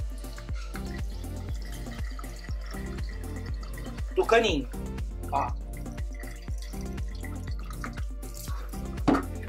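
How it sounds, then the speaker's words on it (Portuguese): Water trickles and drips through a small tube into the reservoir of an orchid pot in a steady, soft pattern, while someone speaks briefly over it. "e boto água no reservatório"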